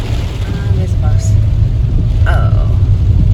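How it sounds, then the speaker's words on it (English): A bus passes on a street in Abruzzo, Italy, a loud low engine rumble that swells and stays close throughout, with brief faint chirps and a voice above it. "And there's a bus."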